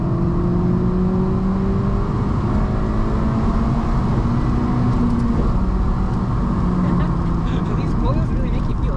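A 2008 Honda Civic Si's K20 engine, fitted with an aftermarket intake, headers and exhaust, drones and revs from inside the cabin while driving, its intake induction a steady, loud tonal hum that rises and falls slightly across the run.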